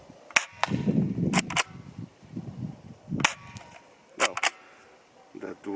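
A Steyr TMP Double Eagle airsoft gun fires a handful of sharp, snappy shots at intervals, single and paired, on a 10 m accuracy range, with a person murmuring between them.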